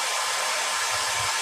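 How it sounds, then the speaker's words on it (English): A hair dryer runs steadily, a loud, continuous broadband whoosh with a low motor hum underneath and no pauses or talk. "Hair dryer."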